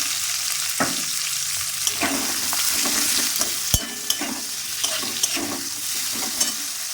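Chopped onions and green chilies hit hot oil in a pan for fish kalia, giving a dense continuous sizzle with intermittent spoon scrapes and one sharp knock, close and steady, no voices.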